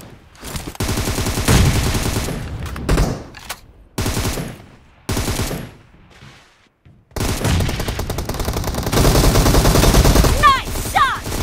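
Gunfire in the PUBG Mobile team deathmatch game, bursts of shots running in rapid clusters with short gaps between them, loud and close, under energetic announcer calls.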